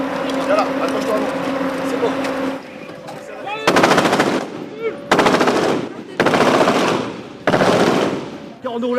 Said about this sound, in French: faites tir d'appui dans cette direction